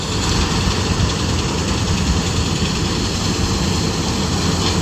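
Tractor engine running steadily on a long farm field during pigeon pea harvesting, a loud continuous low idling rumble with vibration, heard close up throughout with no talk.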